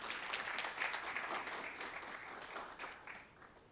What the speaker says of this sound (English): Please applaud him again.